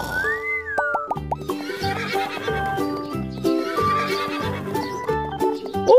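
A horse whinnies in a toy farm scene, a rising-and-falling neigh early on, followed by bouncy, melodic toy-like music tones.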